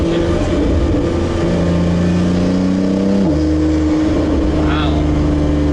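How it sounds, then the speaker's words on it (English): A loud engine revs and accelerates from inside the car, the pitch climbing, dropping at a quick gear shift, then rising again. "It's also very loud inside. There's a lot of engine noise"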